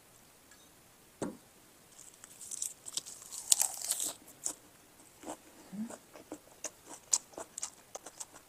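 Close, crisp crunching and chewing of frozen pizza with crispy, burnt cheese, irregular bites and crackles building in the middle then continuing in scattered bursts, with no talking.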